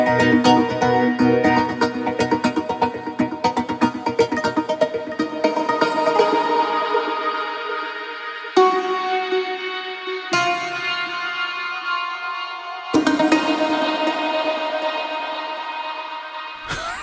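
Omnisphere Revolve synthesizer patch layered with a mandolin, played with the modulation wheel pushed all the way up, giving dense shimmering sustained chords with rapid wavering modulation that fade and restrike several times, alone with no speech.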